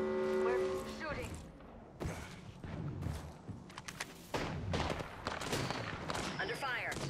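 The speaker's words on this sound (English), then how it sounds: "We're shooting." Bursts of gunfire in a ranked battle royale video game match, several sharp cracks and rattling volleys scattered across the stretch, with voices talking between and over the shots.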